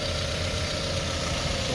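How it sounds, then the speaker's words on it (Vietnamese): Four-cylinder engine of a 2009 Mazda car idling, a steady low hum with a soft even rumble, close and quiet throughout with no voices. "động cơ 4 máy đang hoạt động máy nổ thì thầm luôn"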